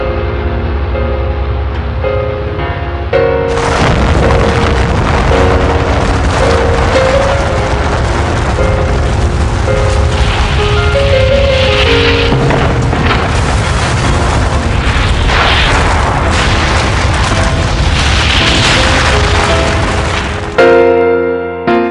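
Atomic bomb detonation over Hiroshima and Nagasaki, a loud sustained rumbling blast roar building and holding for most of the stretch before cutting off abruptly.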